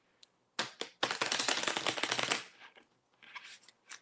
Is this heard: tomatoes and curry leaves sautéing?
no